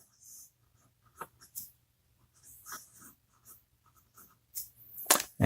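A Sailor Pro Gear fountain pen with a medium nib writes on paper. Faint scratchy strokes come in short bursts with pauses between them, close to the microphone.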